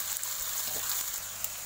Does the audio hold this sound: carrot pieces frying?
yes